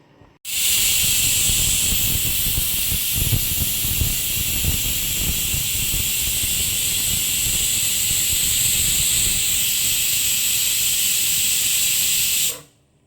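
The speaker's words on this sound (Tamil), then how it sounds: "லாங்காக ஒரு விசில் வந்துச்சு." A pressure cooker cooking rice lets out one long, loud, steady steam whistle and hiss that runs unbroken for about twelve seconds and then cuts off, with no voices.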